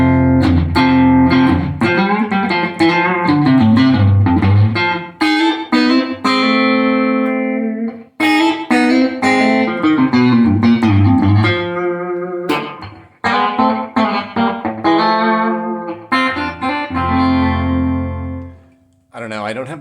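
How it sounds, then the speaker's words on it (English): Electric guitar played through a Fender Deluxe Reverb Tone Master amp, with sustained chords and single-note phrases ringing out loud and close, pausing briefly between phrases. "We're just going through the little deluxe reverb Tone Master"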